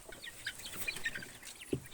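A brooding hen clucks in a backyard poultry setting, giving a few soft, scattered clucks and calls at close range, with one louder low cluck near the end and no speech.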